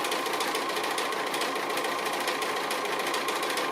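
Sewing machine stitching a row along braid on a button pin cushion: a fast, even mechanical clatter running steadily throughout, close and moderately quiet.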